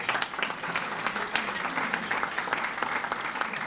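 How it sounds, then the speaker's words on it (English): Dense, lively applause fills the room at an honorary degree dinner, a steady crackle of many hands clapping together that neither builds nor fades over a few seconds. "Give them another round of applause."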